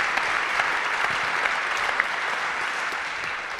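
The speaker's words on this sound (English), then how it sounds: "we do need to just give them a clap because many of them are in this room right now" An audience applauds steadily in a room at a Shelter Portland event, a dense, even clapping that holds at a constant level with no voices over it.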